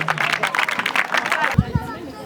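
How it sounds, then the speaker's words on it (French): An audience at a school cultural day tournament claps to encourage the players, a brief patter of hand claps mixed with crowd chatter and someone speaking over it. "Un tournoi d'applaudissements pour motiver les joueurs."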